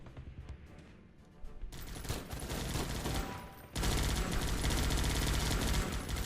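Focus fire in the video game Guns Up!, a loud roar of massed machine-gun fire that begins thinner and then thickens into a dense, continuous fusillade.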